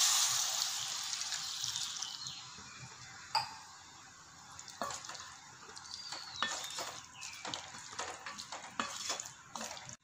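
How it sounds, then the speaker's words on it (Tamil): Water poured into a pan of chana masala splashes and hisses at first, then soft stirring scrapes and clinks sound intermittently as the curry is mixed, fairly faint and close. "இப்போ இதோட 1 கப் தண்ணி ஆட் பண்ணிக்கலாம்."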